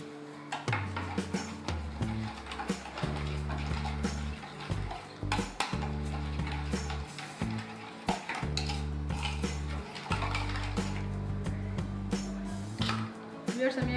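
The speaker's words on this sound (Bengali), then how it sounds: "আমি একটা হুইপসের সাহায্যে আমি চিনিটাকে ভালো করে ফেটে নিব, ডিম এবং চিনিকে।" Eggs and sugar are beaten in a bowl with a whisk, a close rapid metallic clatter of the wires against the bowl in quick rhythmic bursts, running throughout with brief pauses.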